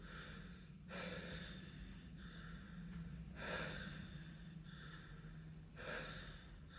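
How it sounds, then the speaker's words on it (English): Slow, close breathing in and out by a person with ascites, several long breaths each with a raspy, faintly whistling wheeze on the exhale. "it's the wheeze in my breath"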